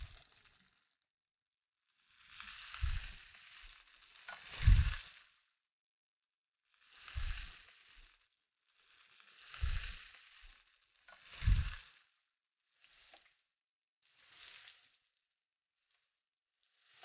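Meatballs frying in a pan for spaghetti and meatballs, heard as short separate bursts of sizzling and spattering, each with a soft low thump as the meat is moved. The bursts are spread across the clip with quiet gaps between them, and no one talks.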